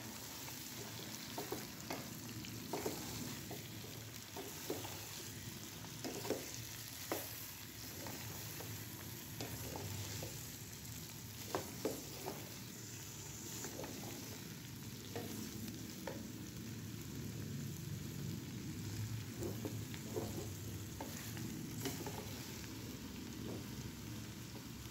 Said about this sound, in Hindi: तमाम सब्जियों को मैं बिल्कुल मीडियम फ्लेम पे इनको तकरीबन 2 से 3 मिनट के लिए इसी सरसों के तेल में पकाऊँगी